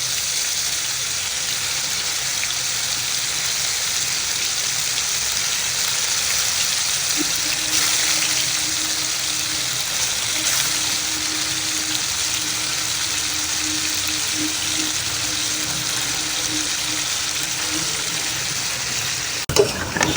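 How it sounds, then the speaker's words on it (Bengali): Chicken curry with raw, unfried potatoes being sautéed in a pan makes a steady, close sizzle that hisses evenly for a long stretch, with a faint hum underneath and no talking. "সবকিছু আমি এখানে কষিয়ে নিচ্ছি।"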